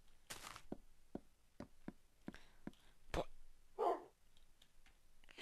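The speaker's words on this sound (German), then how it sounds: "Das ist ein Hund." A dog in the Minecraft video game gives a series of short, evenly spaced barks and thumps under someone speaking German.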